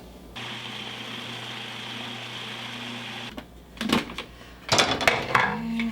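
A food processor blending liver pâté with butter, a steady motor whir with a high whine that stops, then short rough pulsing bursts of the blade churning the thick mixture.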